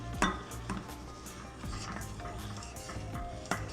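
Milk for rabdi stirred in a pan with milk powder: soft scraping and occasional light clinks of a spoon against metal, fairly quiet and irregular.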